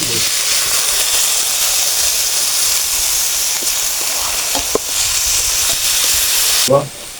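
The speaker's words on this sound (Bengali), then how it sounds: "এই যে খুদের চালগুলো ভেজে নেব।" Broken rice grains frying in a pan, a steady broadband sizzle and hiss running throughout, with a few faint clinks of stirring and a brief louder knock near the end.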